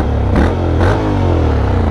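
A Honda X-ADV750 motorcycle's exhaust barks through two quick, loud revs close by, each rising and falling over a deep, steady idle rumble.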